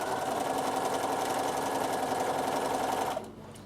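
A sewing machine runs in one steady, continuous burst as it stitches the last stretch of a fabric Christmas table runner, then stops abruptly near the end, leaving near silence.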